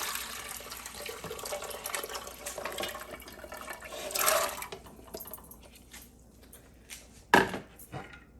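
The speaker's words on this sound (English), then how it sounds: "To the pressure cooker, I will be adding the soaked rajma along with its water." Soaked kidney beans and their water pour and splash into a pressure cooker for a few seconds, then quieter clinks and a sharp knock, with a faint background hum.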